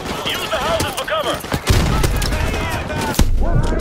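Rapid squad gunfire in Call of Duty Modern Warfare Remastered, dense bursts and sharp close shots rattling continuously while voices shout over the battle.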